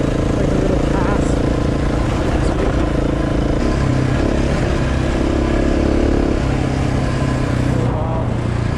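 A KTM 690 motorcycle rides across a frozen lake, its engine a loud, steady drone mixed with wind and rattling, with a voice talking over it.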